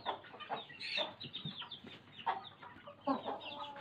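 Brooding hens let out outdoors to eat and drink cluck repeatedly nearby, a series of short, uneven clucks and calls over a quiet background.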